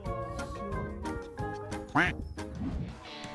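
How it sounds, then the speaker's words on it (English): A duck quacks loudly, one sharp honking quack near the middle standing out over busy background music and clatter. "this duck solved intellectual problems, increasing its IQ"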